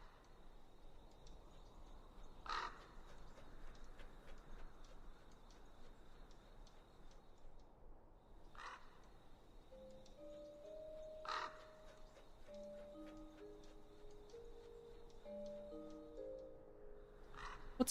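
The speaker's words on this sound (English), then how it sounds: "By the way, now we're getting the crow sounds." Crows caw in modded Skyrim, a video game, in a few spaced, fairly faint single calls over a quiet ambient bed with soft ticking and occasional low tones.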